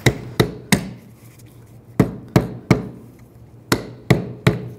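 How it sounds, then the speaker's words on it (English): A hammer knocks the rusty base off a rear shock absorber on a 2007-2013 BMW 328i, giving about ten sharp metallic strikes in quick clusters of three, close and loud with brief ringing between. "Now for the base, just take a hammer. Hammer this off."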